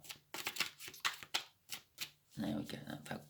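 Tarot cards being shuffled by hand in a series of quick riffling bursts, close and crisp, ending in a longer continuous shuffle, with a voice speaking intermittently between the bursts.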